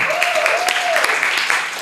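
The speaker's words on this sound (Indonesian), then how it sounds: "Tepuk tangan dulu buat semua." An audience at a live show marking a football channel's one million subscribers breaks into applause, a dense, even wash of clapping with a faint tonal whistle rising and falling through it.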